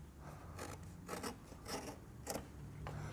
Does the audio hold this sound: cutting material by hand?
yes